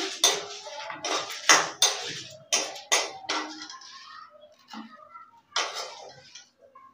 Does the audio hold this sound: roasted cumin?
yes